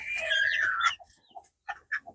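A Peruvidai hen lying in a poultry farm gives a drawn-out squawking cluck, followed by a few short, quieter clucks spaced apart, close by with no talking.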